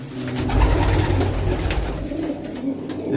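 Domestic pigeons kept by a pigeon fancier coo nearby in soft, repeated throaty calls over a low background hum, with no talking.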